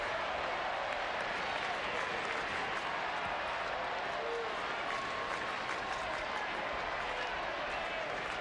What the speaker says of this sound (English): Crowd has been terrific. It's been large and noisy all day.